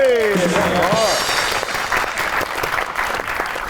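Studio audience applause at a Pakistani comedy talk show greets a model and actress, a steady roar of clapping that starts just after a voice cuts off and continues to the end.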